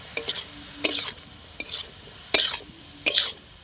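Vegetables with spinach and radish being stir-fried with turmeric and chilli powder: a faint sizzle broken by a few sharp, separate scrapes and clatters of a spatula against the pan, close up, no speech.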